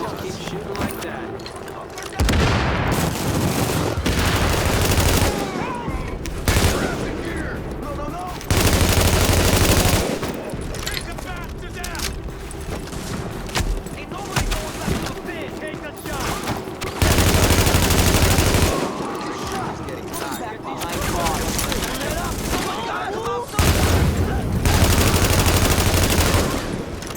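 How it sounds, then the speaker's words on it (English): Long, loud bursts of automatic gunfire in Tom Clancy's The Division, repeated volleys separated by brief pauses, mixed with game effects and people talking. "Keep shooting like that."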